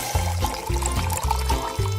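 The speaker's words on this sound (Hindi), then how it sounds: "और अब इसमें थोड़ा पानी मिलाया।" Water is poured into a cup of coffee, a continuous liquid pour with a faint trickle over a repeating low background beat, close and clear.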